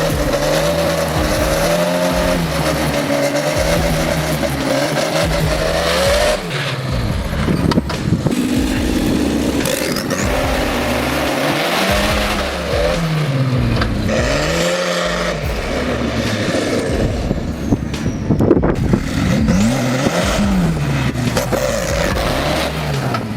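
Tractor racing with Volvo tractors, loud engines roaring and rising and falling continuously as the machines race, with tire noise and no talking.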